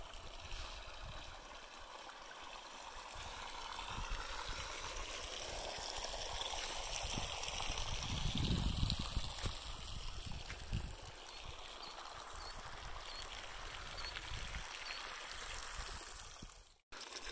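Hot spring water flowing steadily outdoors, a continuous nearby rush and trickle with a brief louder gurgling surge in the middle, no voices.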